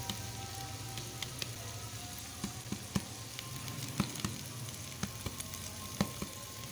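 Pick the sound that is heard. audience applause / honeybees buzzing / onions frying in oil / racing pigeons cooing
onions frying in oil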